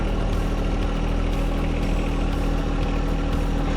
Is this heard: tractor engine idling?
yes